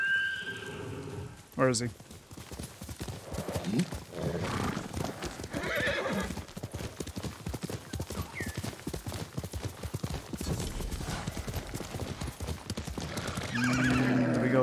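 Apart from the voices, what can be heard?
horse Roach called and galloping, Ghost of Tsushima video game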